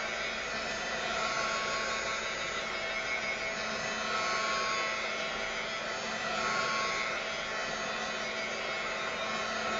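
Hair dryer blowing steadily to dry paint on a canvas, a constant close whooshing hiss with a slight rise and fall, heard alone without talk.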